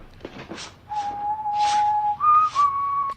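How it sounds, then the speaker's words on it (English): A man whistles the Goldfinger theme slowly, holding long pitched notes with one step up in pitch, alongside soft brushing sounds of sweeping. "a dwarf sweeping up and whistling the Goldfinger theme"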